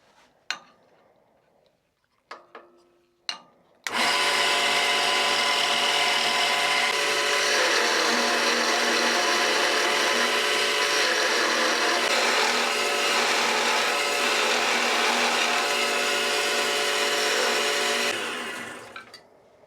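A drill bit boring a hole in wood for the shaft of a woodturned Viking gnome's spear: a few brief clicks and knocks, then a loud, steady whirring grind for about fourteen seconds that winds down at the end.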